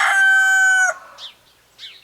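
A backyard rooster, kept among chickens and ducks, lets out one loud, close cock-a-doodle-doo, followed by a couple of short, softer clucks.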